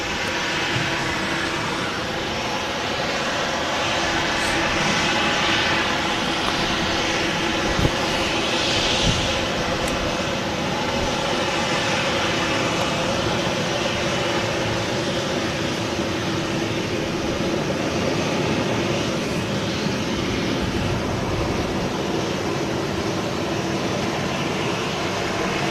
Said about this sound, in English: There's Ryanair departing, slow rotation, nice and smooth, and climbing out of 23 left